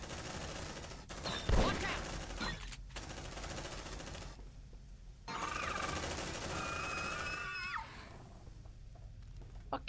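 Shotgun blasts and gunfire in the sci-fi video game Aliens: Dark Descent, a sharp loud burst near the start followed by busy combat noise, with game sound effects and voices mixed in.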